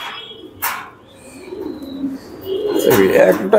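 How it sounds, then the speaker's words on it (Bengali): Top-quality pigeons, including Black and Andalusian birds kept in a garden loft, coo in low rumbling calls close by, with brief chirps and a sharp flutter or clatter between them; someone talks over parts of it. "এটা টপ কোয়ালিটির কবুতর।"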